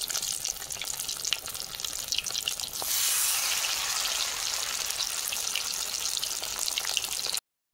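Batter-coated ash gourd slices stuffed with filling frying in hot oil, a loud, dense, continuous sizzle that swells brighter partway through and then cuts off abruptly at the end.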